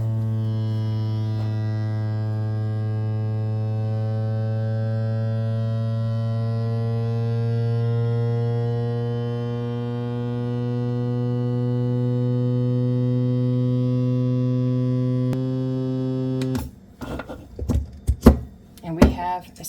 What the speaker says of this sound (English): I've got this handy dandy vacuum sealer